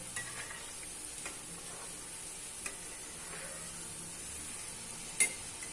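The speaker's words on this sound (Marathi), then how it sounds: "या पद्धतीने आपल्याला मोदक इथे तेलात टाकून घ्यायचे आणि छान तळून घ्यायचे." Modak fry in hot oil as a faint, steady hiss and sizzle, with a few soft ticks and one brief clink near the end.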